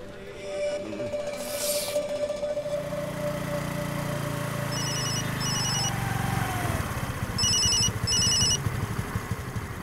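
A mobile phone ringtone plays for an incoming call, its electronic tones repeating in short bursts over a low engine-like hum and a brief rising whoosh, with no talking.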